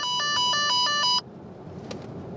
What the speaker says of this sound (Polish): Pierwszy sygnał. Ten dźwięk jest przy okazji trochę wkurzający